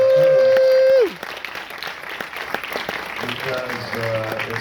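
An audience in a theater at a documentary festival's closing night ceremony applauds the staff, a steady spread of clapping that follows a tone and carries on under faint voices.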